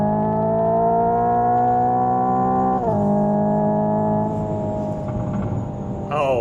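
A Hyundai IONIQ 5 N's simulated engine sound holds a steady, loud revving drone, with sharp pitch drops and rev blips at each downshift and a small grumble between them.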